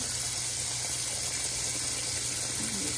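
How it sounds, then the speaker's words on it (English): Oranges being scrubbed with dish detergent under a steady, loud stream of running tap water, a continuous gushing wash with faint handling noises underneath. "And make sure to wash each orange."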